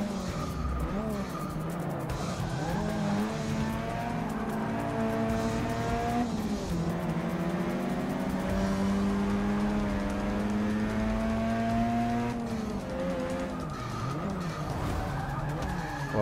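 A stock Mazda RX-7 in Forza Motorsport 6 revs hard with its engine pitch rising and falling through the corners, while its tires squeal and skid repeatedly across the whole lap section.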